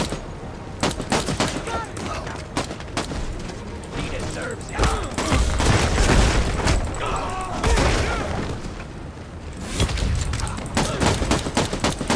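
A huge gun in the video game Redeemer fires in rapid bursts of loud, dense shots with booms and mechanical clatter, running continuously and close.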